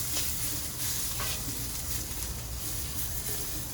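Hibachi-style steak pressed flat on a Blackstone flat-top griddle sizzles and fries in a steady, dense hiss, with a few scraping or stirring touches near the start; no talking.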